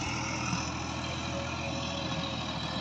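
A 260 tractor engine hauls a 13-foot trolley fully loaded with heavy canal sand up a rough ramp, giving a steady, close, low diesel drone with no break.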